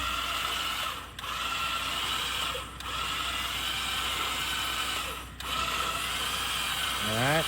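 Wet winch line being retensioned as the winch turns, a steady mechanical whirring drone with brief dips, ending in a rising grinding ratchet at the close.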